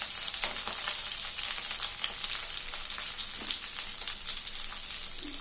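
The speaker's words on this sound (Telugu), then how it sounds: "మనం కొంచెం పెద్ద ముక్కలు కట్ చేసుకున్నా వంకాయలు దీంట్లోకి వేసుకోవాలి వేసి కొంచెం ఉప్పు వేయాలి" Large eggplant pieces with a little salt fry in a pan, giving a continuous bright sizzle close by with scattered sharp crackles and pops.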